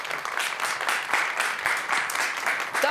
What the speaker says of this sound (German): Ein Applaus für den Tom Sweden.